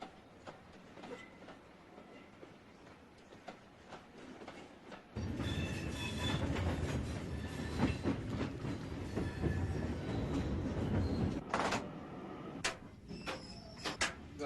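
A train runs along the railway, starting as a quiet rolling hum and then swelling into loud clattering wheels and squeals with clickety-clack rhythm, then easing back with occasional knocks; no one speaks.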